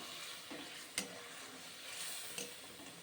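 Fish curry with gravy stirred in a pan, a quiet soft simmering hiss with two brief sharp utensil scrapes or clicks against the pan.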